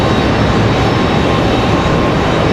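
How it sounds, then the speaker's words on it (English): Delta Boeing 757 airliner from Atlanta arriving at Raleigh-Durham airport, heard as a loud, steady, broadband jet roar with deep rumble that holds without a break and no voices. "That 757 should come into view here in just any moment."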